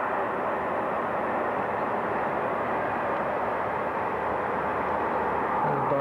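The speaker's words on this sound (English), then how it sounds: "You can see a train whizzing by on the other side." A train passes along the far bank of the Rhine, heard from a castle room high above the river as a steady broad rumble and rush that holds evenly for several seconds.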